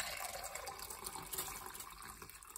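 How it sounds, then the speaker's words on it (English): Clove tea poured into a cup makes a steady, close liquid splash and trickle that runs throughout without a break. "So what you do is you just pour you some."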